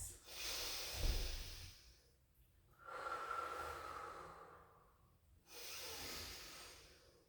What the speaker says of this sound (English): 4 deep in, out breaths.